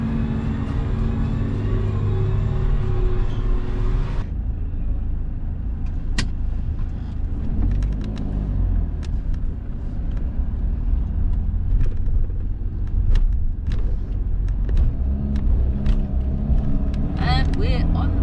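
A car drives along with a steady low engine and road rumble throughout, loud and close as if heard from inside, while people talk over it and a few clicks and knocks cut through.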